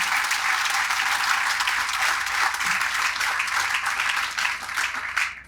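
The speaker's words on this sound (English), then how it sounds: "I think we owe them a round of applause." An audience at an offshore wind announcement at a marine terminal applauding, a dense sustained round of clapping from a crowd that tapers off at the end.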